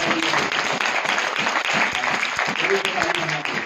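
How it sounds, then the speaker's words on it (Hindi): A church congregation bursts into loud, dense clapping, close and continuous, with voices mixed into the applause. "प्रभु को सारी महिमा, जोरदार ताली दें।"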